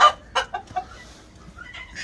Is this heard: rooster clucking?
yes